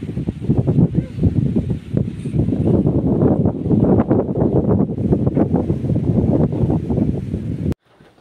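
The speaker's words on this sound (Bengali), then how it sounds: "দেখো কতটা জোর হাওয়া হচ্ছে, ওরে বাবা দেখো দেখো জোর হাওয়া হচ্ছে।" Strong gusting wind from a low-pressure storm buffets the microphone in a loud, continuous roar, then cuts off abruptly at the end.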